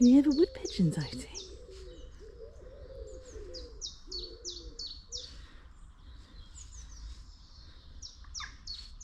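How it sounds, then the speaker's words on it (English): Wood pigeons coo from trees beside water during a spring kayak paddle among catkins, soft low calls repeating at a distance while other birds chirp and twitter higher up throughout. "Can you hear the wood pigeons, Oti?"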